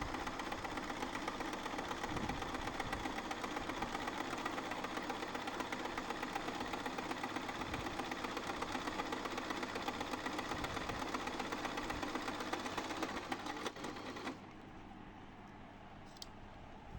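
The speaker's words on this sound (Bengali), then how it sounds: "ইলেকট্রিক বাটারফ্লাই মেশিনের প্রত্যেকটা সেলাই দেখানো হয়েছে।" An electric butterfly sewing machine runs steadily at close range, its fast, even needle clatter continuing for about fourteen seconds and then stopping, leaving a quieter hum.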